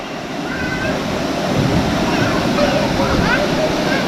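Waterfall at Badiang Spring Resort, a strong, continuous broadband rush of falling water close by, with people's voices faintly mixed in among the roar.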